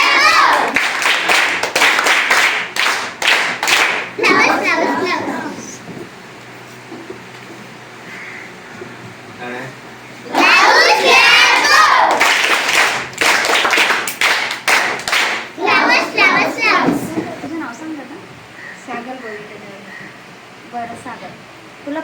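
Primary-school children in a village Zilla Parishad classroom clap their hands together in two lively bursts of rapid, rhythmic claps, separated by a quieter pause with faint room sound.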